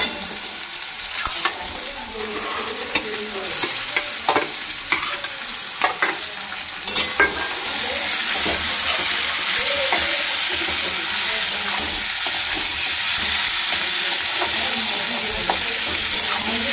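Banana stem and potato fry and get stirred in a pan, with a steady sizzle and scraping stirs that grow denser, loud and close with no talking.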